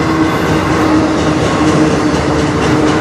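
A CN freight train rolls past in Sarnia, Ontario, a loud, close, steady rumble of railcars with faint wheel clatter and no voices.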